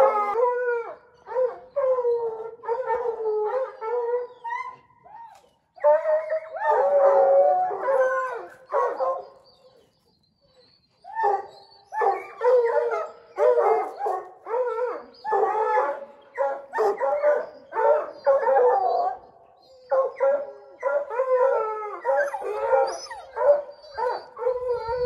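Hunting hounds baying at a lion cornered on a cliff, a sustained chorus of loud howls and barks that comes in bursts with short breaks, close by, with no talking.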